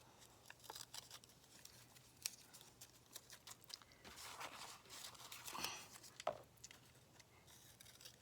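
Scissors snip through paper while cutting out a paper flower, a quiet run of short crisp cuts and crinkles, some clustered, others scattered and faint.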